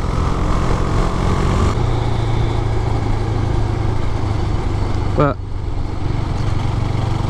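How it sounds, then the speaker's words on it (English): A Husqvarna Svartpilen 401 motorcycle engine runs steadily at a low idle-like rumble, close and loud, with a brief clunk near the end as the note shifts. "a lovely little engine in it really picks up well."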